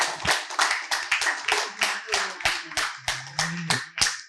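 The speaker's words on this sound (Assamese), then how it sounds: "সকলোৱে নিজৰ বাবে এটা হাত তালি বজাব লাগে সকলোৱে লাষ্টত" A small group claps hands together in a rhythmic, evenly spaced beat at a New Year celebration with elderly women. There are about a dozen crisp, close claps with brief pauses between them, and faint voices sound underneath.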